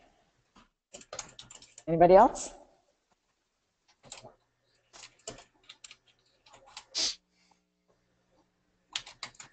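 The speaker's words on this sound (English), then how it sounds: "we've got somebody typing fast. I can hear it." Fast typing on a computer keyboard during an online Rotary club meeting comes in quick, close bursts of clicks with pauses between them. A voice speaks briefly.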